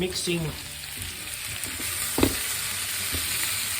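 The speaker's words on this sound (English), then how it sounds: "sauteing the onions so they're about right" Onions sauté in a pan for a beef stew, giving a steady close sizzle and fry with a few light stirring scrapes and a brief clack partway through, with no talking.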